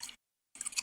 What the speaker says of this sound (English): Chewing gum.